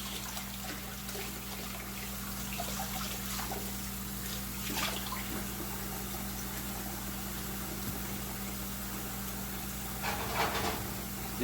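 Tap water runs steadily into a sink while cast iron skillets are rinsed, a continuous close splashing rush with occasional louder surges, over a constant low electrical hum.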